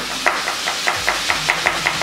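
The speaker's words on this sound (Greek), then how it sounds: "εγώ ψιλοκόβω το κρεμμύδι" A knife chops onion on a cutting board in a kitchen, about ten short, crisp, evenly spaced taps with light room noise behind them.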